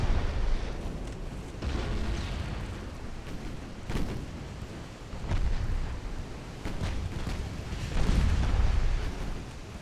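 Heavy 7-inch naval guns in Ultimate Admiral Dreadnoughts, an 1897 French campaign battle, boom in several broad, rumbling blasts roughly every few seconds over a constant low battle rumble, with no talking.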